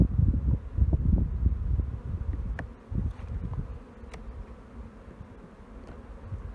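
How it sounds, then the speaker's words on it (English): Honey bees hum and buzz in an open hive on a cool day, a dense low drone that swells and fades, with a few brief nearby fly-bys of single bees. "it's a little bit cool today, so the bees are really bunched up"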